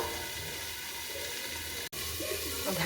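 Water running steadily into a pan while cooking Bengali rohu fish curry, a soft continuous rushing splash at low level with no talking.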